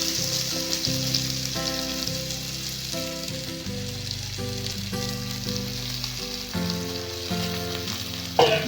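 Wrung-out red amaranth greens fry in a kadai with a constant, moderate sizzling hiss beneath sustained background music, with one sharp pop near the end.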